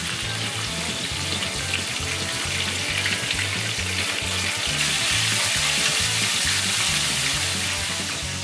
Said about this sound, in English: I'm still frying